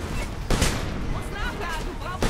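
Rapid gunfire in the war shooter Homefront, a dense fusillade of sharp overlapping shots with heavier bursts near the start and end, mixed in with game noise while someone speaks.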